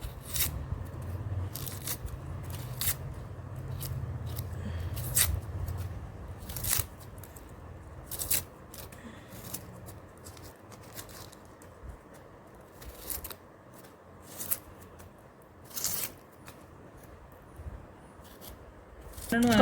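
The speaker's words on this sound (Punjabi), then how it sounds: "ਇਹਨਾਂ ਨੂੰ ਬਿਲਕੁਲ ਲੰਬੇ ਲੰਬੇ ਪਤਲੇ ਪਤਲੇ ਕੱਟਾਂਗੇ" Vegetables being cut into long thin strips for a gram-flour bhurji, sharp crisp knife chops and scraping strokes in an irregular rhythm, close and fairly loud, with no talking.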